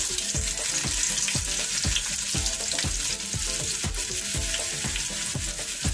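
Onion, garlic and red chili sizzle steadily in hot oil for Filipino sisig, a loud continuous frying crackle with regular spatula scrapes and stirs roughly every half second, no voices.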